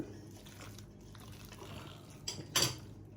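A spoon works through chocolate muffin batter for black forest muffins in a bowl: soft, quiet stirring with faint scraping, then a brief brighter clink of utensil against the bowl near the end.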